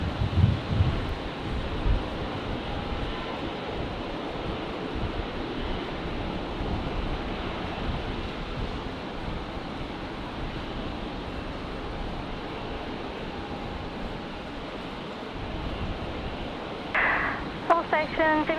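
Strong gusting wind at Brisbane Airport roars steadily across the microphone for the whole stretch, a broad rushing noise like surf, with a brief louder flutter near the end.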